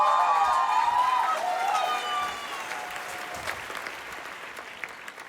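An indoor audience claps for the girls' dance performance over a fading musical tone, with a dense, even patter that eases slightly over five seconds.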